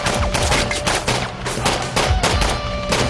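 Dense, continuous bursts of rapid machine-gun fire and overlapping gunshots fill the scene, loud and close, with no pause throughout.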